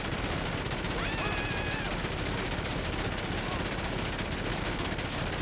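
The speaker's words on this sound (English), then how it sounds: "it is really not worth using this vehicle for these machine guns" Vehicle-mounted machine guns on an Ocelot Ardent in GTA 5 Online fire a dense, unbroken rattling stream that stays loud and continuous from start to finish.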